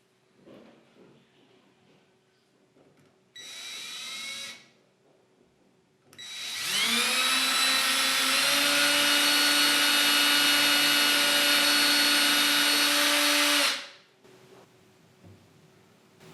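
Power drill fitted with a wood bit boring into a wall to hang a frame or mirror: a short whirring burst, then a longer, loud, steady whine lasting several seconds before stopping, close up with no talk.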